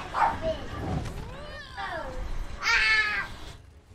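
A dog barks and yips in short bursts with whimpering, whining tones in between, fairly close, mixed with excited voices during a gaming live stream.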